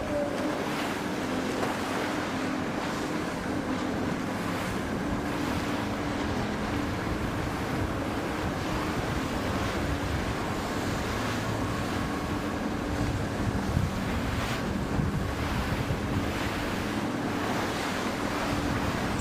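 Strong wind roars across the open sea during a 52 Super Series yacht race at Palmavela sailing week, mixed with continuous wave wash and boat noise in a dense, unbroken rush with no voices.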